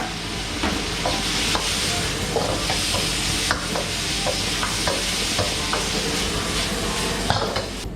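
Beef stir-fried with shrimp paste and dried chili as basil leaves go in, a steady close sizzle filled with repeated scraping and clanking stir strokes from a spatula against the pan.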